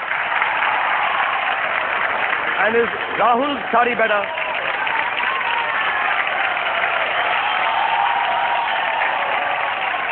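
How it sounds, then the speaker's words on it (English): An audience at the Sahara IPL Awards ceremony applauds with steady, dense clapping that runs throughout, while a voice speaks over it. "Everyone, clap for Dada."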